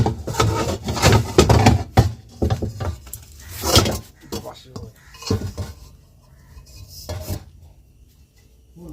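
A metal kadai wok is pulled out in a dim home kitchen and handled, clanking and scraping against other pots and pans in loud knocks at first, then settling into softer rattles.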